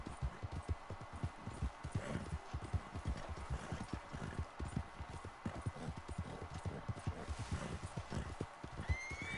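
Red Dead Online video game: horses whinny and neigh repeatedly over a steady patter of hooves clip-clopping, busy and close, with several animals overlapping throughout.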